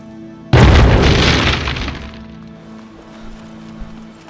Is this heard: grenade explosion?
yes